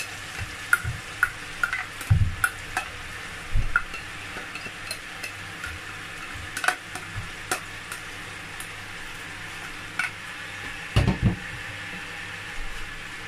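Boiled pepper cooking in a pot for a croaker fish stew, with a soft steady sizzle and scattered light clicks and scrapes of stirring. A few low thumps are heard, all fairly faint, and there is no talk.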